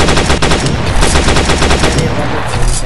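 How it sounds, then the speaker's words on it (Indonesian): Rapid, loud machine-gun bursts fill a WWII video game battle, sustained dense automatic fire with overlapping shots and no pauses. "Dari samping kita ditembak dari senjata yang aneh itu ya"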